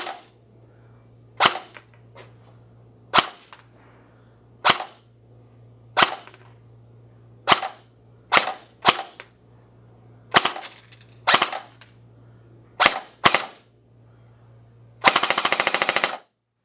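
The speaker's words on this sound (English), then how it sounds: "Chronographing this thing may be a little bit difficult because it only shoots in full auto" An Echo 1 M1918 Browning Automatic Rifle airsoft gun fires full auto in about a dozen short, sharp bursts spaced a second or so apart, ending in one longer sustained burst, loud and close with a faint hum underneath.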